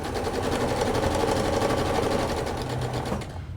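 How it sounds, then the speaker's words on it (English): A sewing machine fitted with a quarter-inch foot stitches fabric quilt blocks together, a steady rapid mechanical whir running close and loud for about three seconds before stopping, with no talking. "Sew it with your 1/4 inch foot or a 1/4 inch, whichever you're going to use."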